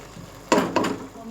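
Matar pulao being stirred in a cooking pot, a brief spoon scrape and clink against the metal, close and short, with a voice nearby.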